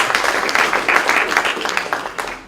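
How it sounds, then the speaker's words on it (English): A conference crowd at Daystar University breaks into lively, close applause, a thick, uneven patter of many hands clapping together with no one speaking. "Can we give a round of applause?"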